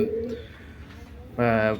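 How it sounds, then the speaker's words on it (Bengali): Oman Teddy and 128 Teddy pigeons coo nearby, a short throaty coo at the start and another rising coo near the end, with someone talking in between. "সো কবুতর দেখেন আপনারা কবুতর দেখেন"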